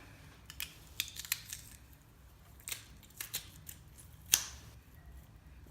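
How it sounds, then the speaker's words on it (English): Garlic being smashed in a small kitchen crushing gadget, a series of sharp crunches and clicks, including a louder snap near the end, close and otherwise quiet. "Now I will take my garlic and I will smash with some machine."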